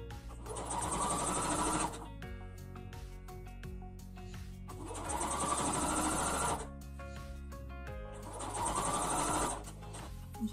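A sewing machine runs a straight seam around a fabric infinity scarf in three steady bursts of about two seconds each, with short pauses between them, loud and close.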